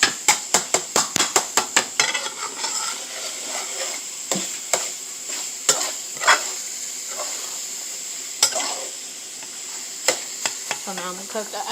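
Italian sausage browning in a pan for lasagna, opening with a rapid run of spoon taps against the pan, then a crackling sizzle with intermittent scraping stirs and clacks, close and fairly loud.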